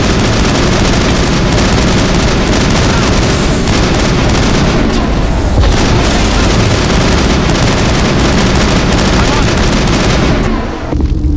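Gunfire and explosions in a Mass Effect fan film battle, a dense, loud, continuous barrage of shots and booms that fills the scene and cuts off sharply at the end.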